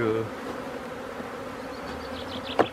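A dense, steady buzz of many bees close by, a sustained droning hum with a brief sharper sound near the end.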